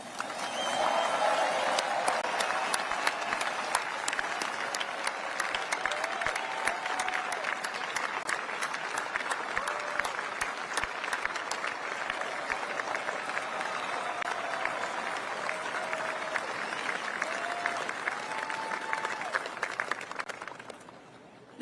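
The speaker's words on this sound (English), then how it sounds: "So please join me in a round of applause for our team." A large ceremony crowd at the B-21 Raider unveiling applauds the team in long, sustained clapping that stays strong for about twenty seconds before cutting off, with faint voices mixed in.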